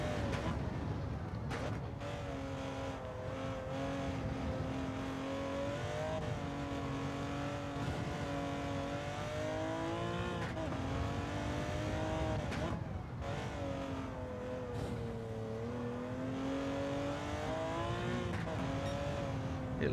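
Porsche 917 race car at Spa in Gran Turismo 7, its engine droning steadily with rising and falling revs through gear changes, a brief dip near the start, heard continuously with talk over it.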